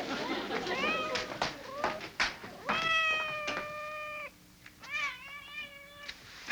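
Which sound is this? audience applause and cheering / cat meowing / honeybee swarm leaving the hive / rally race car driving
cat meowing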